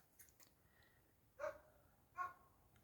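A dog that is upset after its owner has left barks twice, in two short, fairly close yelps a little under a second apart, with a few faint clicks before them.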